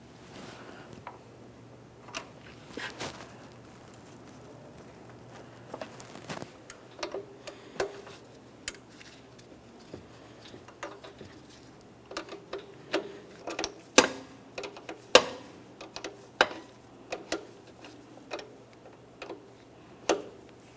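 Light metallic ticking and clicking from an 18mm wrench snugging a power steering line fitting into its adapter on a 2007-2017 Jeep Patriot, a faint, irregular run of small taps that grows denser and sharper toward the end.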